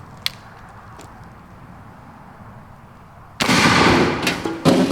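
A 69 caliber 1842 Harper's Ferry musket fires after a quiet stretch with a faint click, producing one sudden loud, broad blast that rolls on briefly before a second sharp crack.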